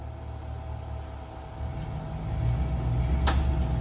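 An off-road crawler grinds uphill in a hard-core crawling event, its engine holding a low rumble that swells and pitches up as the vehicle climbs, with a sharp short scrape near the end.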